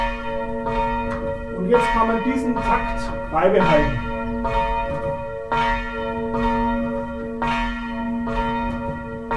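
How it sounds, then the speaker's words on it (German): A church bell rung by hand with a rope pull strikes in a slow, even rhythm, each loud ringing clang decaying into a sustained hum, while someone speaks over the tolling. "jetzt hört man, dass die Glocke gleichmäßig anschlägt"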